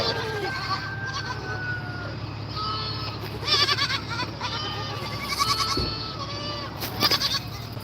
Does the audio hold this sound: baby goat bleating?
yes